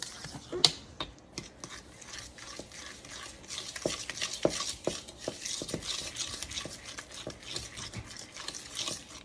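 A spoon works through banana bread batter in a bowl, giving steady, close scraping and tapping strokes in an uneven rhythm that runs the whole time with no talk.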